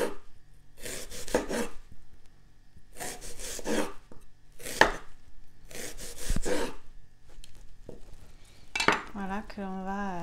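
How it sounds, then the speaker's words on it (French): A knife finely slicing an onion on a cutting board, close, crisp bursts of rapid chopping strokes in several rhythmic runs separated by short pauses. "on va vraiment partir sur un oignon émincé finement"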